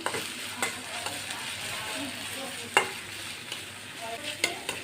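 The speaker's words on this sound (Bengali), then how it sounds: "এখানে কাঁচামরিচ আর পেঁয়াজটা ভেজে নিতেছি।" Green chilies and onions frying in a pan, a steady sizzle with a few sharp clinks and stirring knocks scattered through it.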